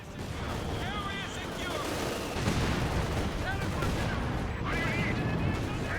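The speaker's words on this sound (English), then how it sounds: "Land mattress is firing." Land Mattress rocket artillery fires in Company of Heroes 2, a loud rolling barrage of launches and blasts layered over battlefield noise with whistling streaks.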